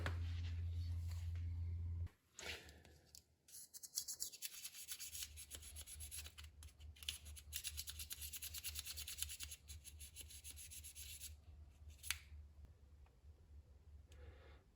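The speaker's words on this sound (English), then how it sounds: "I'll take a screwdriver and just try to work it inside those contacts there." A screwdriver scrapes and rubs inside the contacts of a Ford Ranger headlight connector, a steady close rasping that runs for over twelve seconds over a low constant hum.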